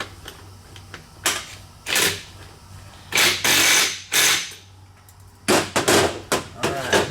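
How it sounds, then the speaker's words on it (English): Impact wrench tightening a fork bolt on a Suzuki V-Strom 650 motorcycle, a handful of short loud rattling bursts separated by pauses, close up in a workshop with no talking. "Now, we'll tighten that down with this impact."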